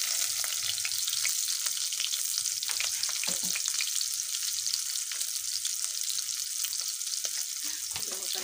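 Corned beef frying in a pan gives a steady, close, hissing sizzle throughout, with occasional stirring scrapes.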